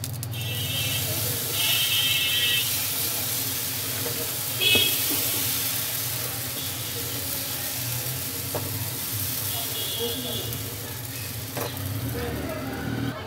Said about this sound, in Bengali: এভাবে করে আমি সবগুলো পিঠা ভেজে নিতেছি